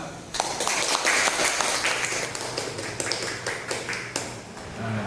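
Students in a classroom applaud, a burst of quick overlapping hand claps that starts abruptly and carries on steadily for several seconds, with faint voices underneath.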